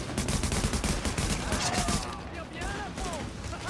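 Rapid bursts of gunfire in the video game The Division crackle continuously, dense and loud, with a voice talking over the shooting.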